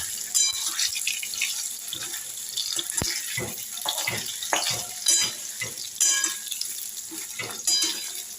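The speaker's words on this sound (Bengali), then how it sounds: "পনিরটা ঘি আর রিফাইন মিশিয়ে পনিরটাকে ভেজে নিচ্ছি।" Paneer fries in a mix of ghee and refined oil, with a close crackling sizzle broken by repeated stirring clatters and sharp spatters, including one loud knock. No voices.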